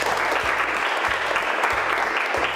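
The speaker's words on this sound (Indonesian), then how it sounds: "Tepuk tangan untuk Anwar." A classroom of vocational high school students in Bandung breaks into brisk, continuous applause for a classmate, a dense, close clatter of many hands lasting a few seconds.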